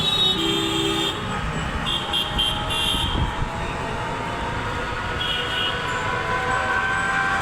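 A metro train rumbles steadily along in Dhaka, from Mirpur toward Diabari, with a continuous mechanical drone, and a couple of faint high tones sound briefly over the noise.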